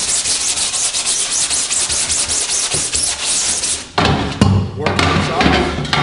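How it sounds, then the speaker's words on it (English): Screen printing mesh prep or dish soap is scrubbed into a wet screen, giving loud, continuous brisk rubbing strokes up close, then a few thumps and clatter as the scrubbing eases. "So then just scrub it in."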